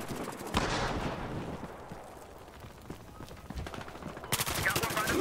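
Rapid bursts of gunfire in Battlefield: Hardline, including sniper shots, crack out in dense volleys at the start and end, with quieter scattered shots between.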